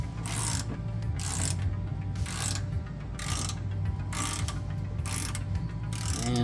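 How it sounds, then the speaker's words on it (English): A ratchet lowers a transmission jack beneath a 2005 Toyota Tundra during A750E transmission removal, producing about seven close, evenly paced bursts of rapid clicking over a steady low hum. "Got the ratchet on there."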